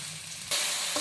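Okra, tomato, green chilli and onion frying in a pan for chutney, a steady sizzle that suddenly jumps louder and brighter midway, with no voices.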